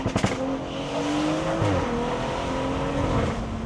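A BMW car with a B58 engine revs hard, a few sharp blips at the start giving way to a sustained, rising and falling high-rpm engine note, loud and close with no talking.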